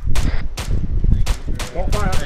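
Heavy, close bursts of rifle fire in Arma 3 during a town assault, several loud cracking shots in quick succession with rumbling echo between them.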